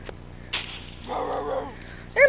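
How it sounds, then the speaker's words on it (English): A dog-like bark and a short whimpering yip sound close by, with a sharp yelp at the end, in a brief and fairly quiet burst. "There must be a dog behind this bush."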